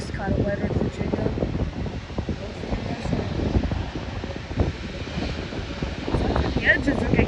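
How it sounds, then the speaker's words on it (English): Spirit Airlines Airbus A320neo jet engines building into a steady low roar before takeoff at Norfolk International Airport, heard outdoors from a distance in cold weather with wind buffeting the microphone and faint talk over it. "The engines are getting a bit louder."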